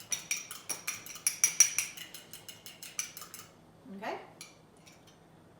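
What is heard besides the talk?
mixing egg mixture in a bowl until frothy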